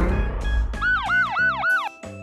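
Siren from a toy fire truck, a Power Key Starex shooting car, giving a short electronic wail that sweeps up and down in quick repeating cycles for about two seconds, clear and close.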